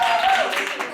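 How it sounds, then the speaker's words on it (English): Audience applause at a synagogue talent show, a steady wash of clapping from a crowd lasting the whole second with no gaps. "Can we get a round of applause for Ian"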